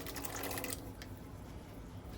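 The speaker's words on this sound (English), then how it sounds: "So I pour the whole liquid in there, everything, because that's what's going to give the rice the color" Kidney bean cooking liquid poured from a pressure cooker into a pot of rice, a steady close liquid splash that lasts a couple of seconds and thins toward the end.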